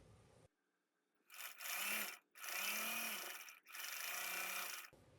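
A sewing machine stitches through layers of a pieced quilt block in three loud, close runs of rapid mechanical whirring, with near-silent gaps between them.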